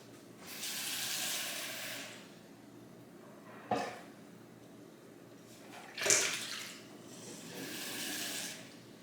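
Water is poured from a measuring cup into a small saucepan for hot chocolate, two soft hissing pours separated by a couple of light knocks of kitchenware in a quiet room.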